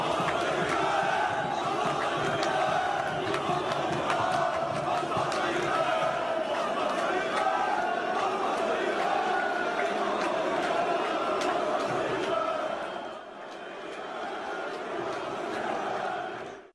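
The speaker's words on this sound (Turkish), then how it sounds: "rakipler maçı izlemeye gelen İmamoğlu için belki de ilk kez aynı tezahüratı yaparak mazbatayı ver şeklinde seslendi" Football fans at a Fenerbahçe–Galatasaray match chanting "mazbatayı ver" in unison for İmamoğlu, a dense roaring crowd chant sustained throughout, dropping briefly near the end before swelling again.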